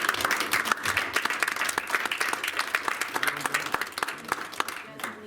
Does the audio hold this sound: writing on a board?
no